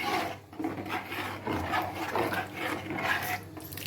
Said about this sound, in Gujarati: અને આ રીતે હલાવતું રહેવાનું એટલે નીચે બેસે નહીં